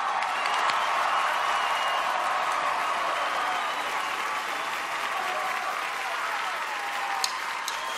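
An America's Got Talent audience applauding for a singer, a large crowd's continuous clapping and faint cheering holding steady for the whole stretch.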